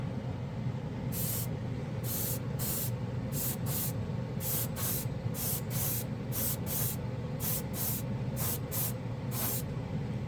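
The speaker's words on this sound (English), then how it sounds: "No problem at all with this airbrush." An airbrush with a 0.5 millimeter needle spraying metallic paint, giving short repeated bursts of soft hissing spray in an irregular rhythm over a steady low hum, close and clear, with no talking.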